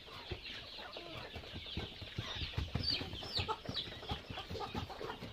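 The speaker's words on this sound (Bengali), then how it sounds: "এই যে আরো দেখায় আসেন, আমার আরো বড় মুরগি আছে দেখেন।" Chickens cluck in a coop, a close, steady chorus of overlapping clucks and squawks with no voices over them.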